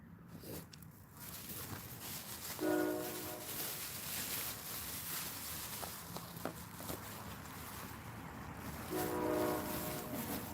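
A train rumbles past at a distance while its horn sounds twice, once early and again near the end, over a steady low rolling noise.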